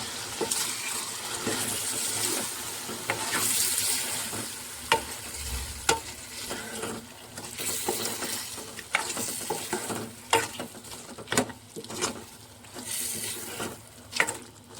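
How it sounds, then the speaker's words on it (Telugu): Masala is stirred into mutton gravy curry in a pan, with a continuous frying sizzle broken by repeated scraping strokes and clacks of the spoon against the pan at an irregular rhythm. "మసాలా బాగా కలుపుకుందాం"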